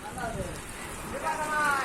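Water splashes and patters steadily across a hot corrugated tin roof during a heatwave, like a heavy rain shower close by, with voices talking over it.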